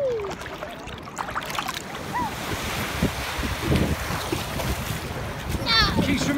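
Ocean surf rolling onto a beach in Thailand with heavy wind buffeting the microphone, waves washing in continuously and swelling louder near the end, with brief voices and squeals over the water.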